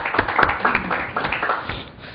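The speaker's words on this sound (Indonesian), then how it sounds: "Kita beri tepuk tangan kepada Pak Bambang." An audience gives Pak Bambang a brief round of applause, a short patter of hand claps at moderate loudness that tapers off within about two seconds.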